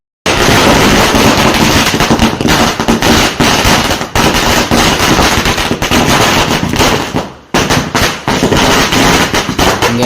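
Firecrackers burst loudly and continuously during a Ganesh immersion procession, with the idol carried on a vehicle; rapid crackling volleys run almost without pause, close and very loud, with a brief gap midway.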